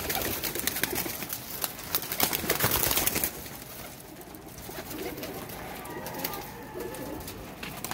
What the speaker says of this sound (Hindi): ये गोल्डन कबूतर।